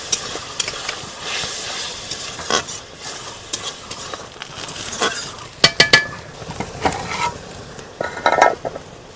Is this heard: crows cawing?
no